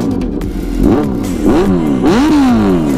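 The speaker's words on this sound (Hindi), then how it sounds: "तो ये रहा एससी प्रोजेक्ट एग्जॉस्ट।" A Kawasaki Z900 motorcycle fitted with an SC Project exhaust revs loudly and close, giving three sharp throttle blips that rise and fall over a steady idle.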